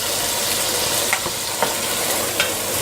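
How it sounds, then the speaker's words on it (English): Mixed vegetables for a pilau frying in a pan, a steady close sizzle with a few light clicks of stirring. "So we're just going to cook the veg for 4 or 5 minutes"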